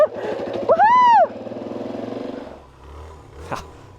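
A Suzuki DR-Z400S motorcycle rides through sand on Central Oregon singletrack, its engine chugging in a quick, even pulse. A rising and falling vocal whoop cuts in briefly before the engine fades.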